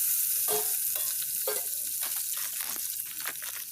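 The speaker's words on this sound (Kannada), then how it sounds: "ಬಟರ್ ಮೆಲ್ಟ್ ಆಯಿತು." Butter melts in a pan for popcorn, sizzling steadily with bright bursts and stirring scrapes that recur about every half second, close and moderately loud without speech.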